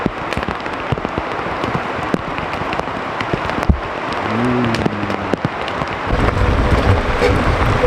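Rain falling at a wilderness riverside campsite along the Stikine River, a steady dense patter of drops on surfaces with sharper nearby hits, growing louder toward the end, with a brief low murmur partway through.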